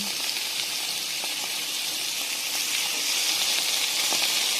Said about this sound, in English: we're just going to quickly add our whitefish here. We're going to lightly put it in the pan